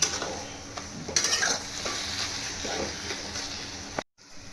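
Khor chatu curry with potato is stirred in a pan on a gas stove: close scraping strokes and a spoon knocking against metal over a soft sizzle, with no talking.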